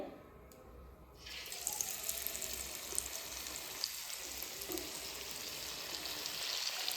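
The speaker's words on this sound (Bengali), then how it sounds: "এইভাবে লাল লাল করে আমি পটলগুলোকে ভেজে নেব।" Slices of pointed gourd (potol) coated in batter frying in hot oil, a steady close sizzle that swells after the first second and holds evenly to the end, with no voices.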